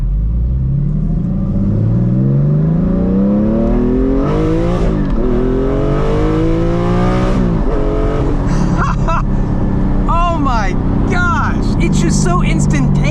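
A 600 hp 4.5-litre Porsche GT4 with an upgraded exhaust and shorter gears, accelerating hard. The engine revs climb steeply through several quick gear changes, loud and close, with voices talking over it.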